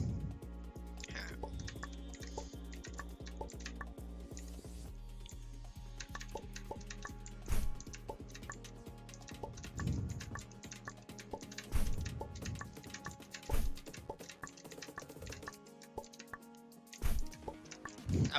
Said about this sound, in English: Well, let me take a sip.